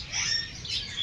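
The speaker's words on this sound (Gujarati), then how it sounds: "એક જ લાલ મોઢાવાળો પોપટ છે." Red-faced parrot at a zoo giving a steady, high-pitched chirping call that runs continuously for about a second, fairly close, with low background noise beneath.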